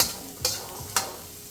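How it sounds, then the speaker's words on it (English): Ingredients toasting in a hot pan for Nigerian fried rice, giving a low steady sizzle with two sharp stirring scrapes close by, no talk. "So the pan is nice and hot. Just toasting them a little bit."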